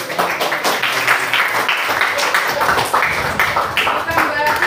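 Classroom of middle-school students giving a round of applause after a presentation, a busy, continuous patter of clapping with voices chattering underneath.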